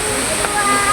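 A waterfall gives off a steady, broadband rush of falling water that stays fairly even and continuous through the short moment.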